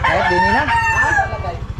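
Chickens crow loudly nearby, several overlapping cock-a-doodle-doo calls rising and falling together over a low, steady pulsing background hum.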